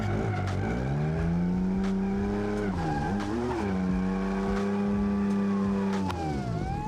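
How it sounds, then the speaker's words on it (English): A car engine in a racing video game, a drag car that sounds like it is missing one or two cylinders, drones at a steady pitch with an uneven, lumpy tone, dipping and rising briefly as it revs, heard alone without talk. "It sounds like it's like missing like 2 cylinders anyway"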